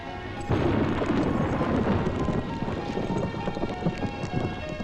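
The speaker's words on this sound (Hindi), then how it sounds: "कमाल का तूफान आया यहाँ।" A heavy thunderstorm with steady loud rain and low rumbling thunder rolling continuously at close range, a dense unbroken wash of sound with no voices.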